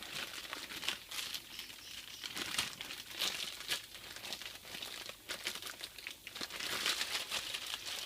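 Plastic wrapping crinkles continuously around Subaru SF5/GC8 cabin filter kit pieces, a close, busy rustle with dense crackles and no talking.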